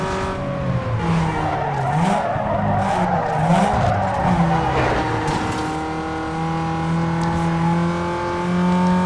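A car's engine revs and its tires screech in the Need For Speed Underground 2 racing game, a loud, continuous whine that rises and falls as it shifts gears, with brief skidding squeals.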